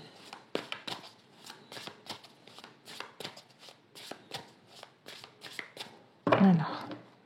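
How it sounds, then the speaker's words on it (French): A tarot deck is cut and shuffled, with rapid repeated card flicks and riffles at close range under a soft voice, ending in a louder burst of shuffling. "je vais faire une coupe et je vais prendre 3 cartes"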